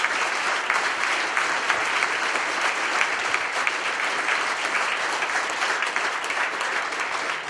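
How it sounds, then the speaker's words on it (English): A breakfast discussion audience gives the county executives a round of applause, continuous crowded clapping at fairly strong level throughout, individual claps faintly standing out, and nobody speaking. "if I could get a round of applause for the county executives"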